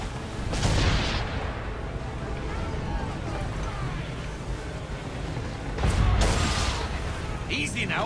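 Naval cannons fire chain shot in Assassin's Creed 3, with two heavy booming volleys about five seconds apart over a constant rumble of sea battle and chatter.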